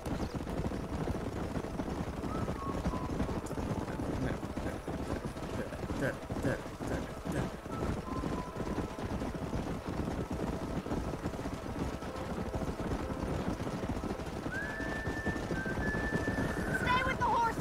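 Horses galloping in the Red Dead Redemption video game, hooves clip-clopping in a steady rapid patter throughout at moderate level, with faint game sounds layered over the hoofbeats.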